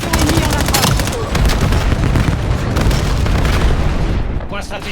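Loud, dense grenade explosions and gunfire rumble without pause in a Call of Duty Black Ops 7 multiplayer match, with bursts of crackling shots as a voice speaks over the din.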